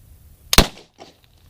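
A single loud, sharp crack from a VZ58 rifle firing 7.62x39 into a pumpkin outdoors, followed by a faint thud and quiet.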